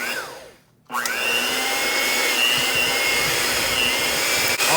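An electric mixer whips cream cheese and cocoa powder into frosting, starting after a short quiet gap and then whirring steadily and loudly with a constant high motor whine.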